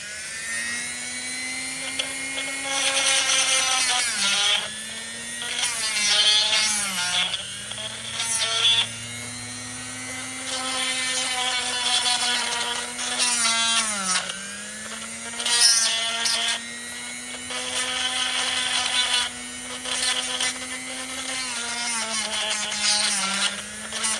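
A carbide-tipped rotary tool cleans an alternator part from a VW Rabbit Mk1 diesel, giving a steady, close, high motor whine whose pitch dips briefly as it bites under load. No one speaks.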